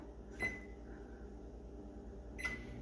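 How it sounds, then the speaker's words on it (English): A microwave oven heating a keto honey bun batter hums quietly and steadily in a kitchen, broken by two short, sharp clicks or beeps a couple of seconds apart. "pop it in our microwave here."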